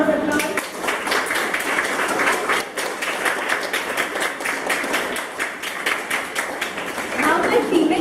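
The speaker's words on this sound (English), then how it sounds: "Give her a big round of applause." Children in a seminar audience give a long, lively round of clapping, many hands tapping densely for several seconds, with a few thumps and voices mixed in.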